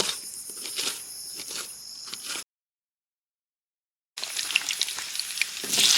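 Onions fry in a pan at a campsite in the forest, giving a close, crackling sizzle with stirring that stops for a gap of silence and then starts again.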